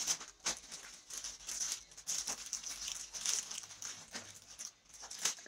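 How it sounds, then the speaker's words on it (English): A package holding a black Dell two-zipper laptop bag is opened, giving close crinkling, rustling and tearing of packaging in irregular bursts, with no talking. "Alright, so I'm opening that first package."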